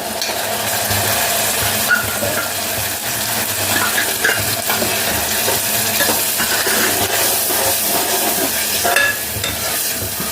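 Onions and a ground paste of coriander seeds, cumin, poppy seeds and dried red chillies fry in a pan for poppy seed curry, a dense continuous sizzle with faint stirring scrapes throughout.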